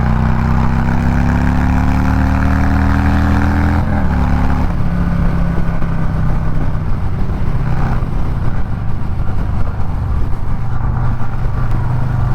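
Harley-Davidson motorcycle riding down the road, a loud steady engine drone with a low rumble that dips and shifts pitch partway through as it changes speed.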